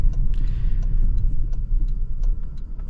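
A factory-lifted 2026 Toyota Tacoma hybrid pickup rolls along as a low, steady road rumble heard from inside the cab, with faint ticks and creaks over the engine and tire drone.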